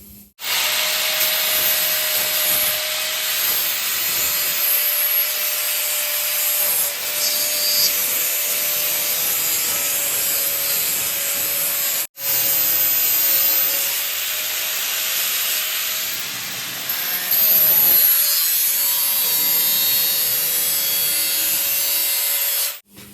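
Steel plate for a sorting table on an MTR splitter being ground, a loud, steady, abrasive roar running almost without pause for over twenty seconds, with one brief cut-off near the middle before it resumes.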